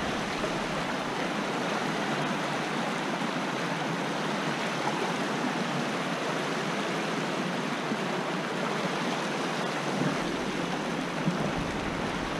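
Nitnat River water rushes in a steady, loud broadband roar, continuous and unbroken with no voices, like a close stream or small rapids.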